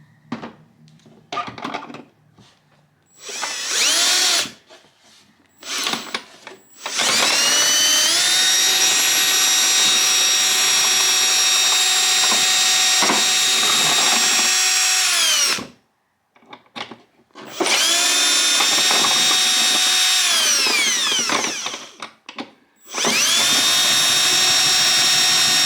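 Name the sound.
power drill drilling out a lock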